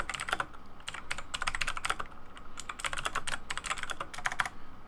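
Rapid, close-up clatter of keys on a computer keyboard, typed in uneven bursts with brief pauses, steady and fairly loud with no voices over it.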